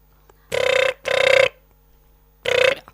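A telephone rings loudly and close in a Maithili comedy scene: two long electronic ring bursts back to back, a pause, then a third ring.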